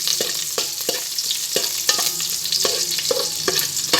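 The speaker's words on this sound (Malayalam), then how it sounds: "നമുക്ക് കറിവേപ്പില ഇട്ട് കൊടുക്കാം." Curry leaves crackle and sizzle in hot oil while mutton biryani is being made, a close, steady spitting fry broken up by repeated sharp scraping taps of a spoon or ladle stirring in the pan, with no talking.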